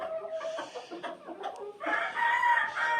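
A bantam rooster crows loudly and close by, its high strained call followed by a second longer crow, with clucking hens around it.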